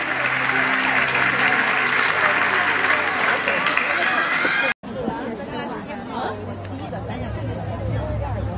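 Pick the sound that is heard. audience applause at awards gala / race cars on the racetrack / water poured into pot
audience applause at awards gala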